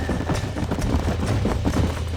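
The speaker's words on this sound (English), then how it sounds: "There's the horses!" A group of horses galloping in Red Dead Redemption, with steady drumming hoofbeats pounding close by in a continuous rhythm.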